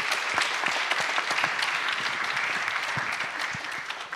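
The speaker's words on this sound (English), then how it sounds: "Please give her a round of applause." Steady applause from a debate audience at a festival panel, dense clapping that stays loud and even throughout with no voices over it.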